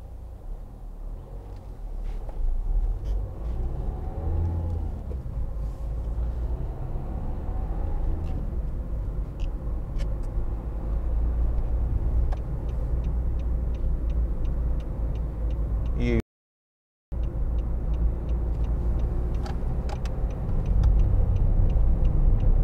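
Interior road noise inside a 2013 Nissan Note 1.5 dCi on the move: a steady low rumble and hum with faint ticking, broken by one brief dropout.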